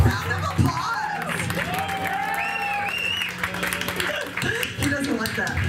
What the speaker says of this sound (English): Doesn't he give him a round of applause?